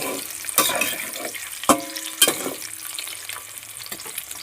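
Eggs fry in a hot pan for a simple egg fry, giving a close, sizzling hiss broken by several sharp clanks and scrapes of a spatula or utensil. No one talks.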